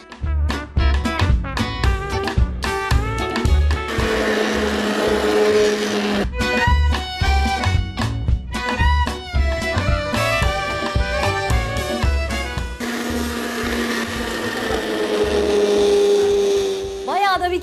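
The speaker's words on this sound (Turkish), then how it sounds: "Şimdi hemen robotta çekmeye gidiyorum. Şimdi güzelce hepsini çekeceğim." A food processor whirs in repeated loud bursts, blending cooked tomatoes for homemade ketchup, each run starting and stopping abruptly with short pauses between pulses, with a voice talking in the background.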